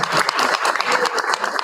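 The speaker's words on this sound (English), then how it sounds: "Let's give Mason a round of applause." Audience applause at a school board meeting for a first-grade student of the month, a steady patter of many hands clapping that holds evenly throughout.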